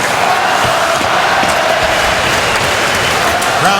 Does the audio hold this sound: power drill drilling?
no